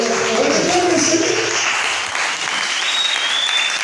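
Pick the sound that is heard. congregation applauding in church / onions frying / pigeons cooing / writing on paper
congregation applauding in church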